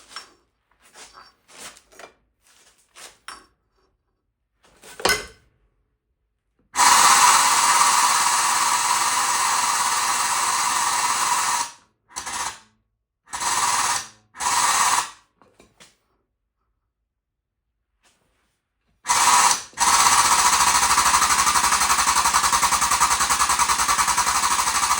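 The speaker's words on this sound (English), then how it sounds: "I need to punch this, so let's do that." A hydraulic punch drives holes through a steel steering part for a Case 155 4x4 articulated tractor build: loud sustained mechanical roaring bursts with abrupt stops, after scattered light clanks and handling knocks.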